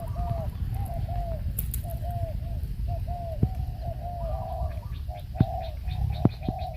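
Repeated soft dove coos in a steady rhythm, fairly close, over a low background rumble with a few faint clicks.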